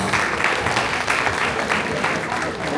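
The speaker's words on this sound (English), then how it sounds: "Please give her a round of applause" An audience at an Indian association celebration in Chicago applauds a singer with dense, sustained clapping close by. It stays loud and even throughout.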